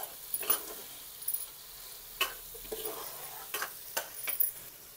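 Tomato paste with salt and turmeric being stirred in a frying pan, a soft sizzle under intermittent scraping strokes of a spoon, close and fairly quiet, with no talking.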